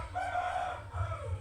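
A village rooster lets out a brief crow over a low, steady background rumble, fairly loud and nearby, lasting just over a second with no talking.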